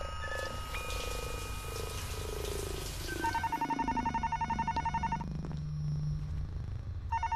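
Electronic telephone ringing in a video game sounds in rapid repeated pulses over a layered, synthetic in-game ambience, fairly loud and close, breaking off and briefly returning at the end.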